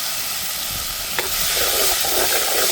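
Turkey berries (sundakkai) go into a pan of sautéing onions and curry leaves. A loud, steady sizzle swells after a sharp clink near the middle, with faint scraping from stirring and no talking.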